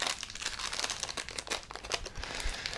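A paper packet holding a cheek swab DNA test is torn and crinkled open close by, with a continuous dense rustle and crackle for about three seconds and nobody speaking.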